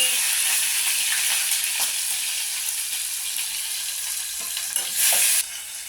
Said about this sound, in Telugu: నూనె వేడైంది, ఉల్లిగడ్డ వేస్తాను.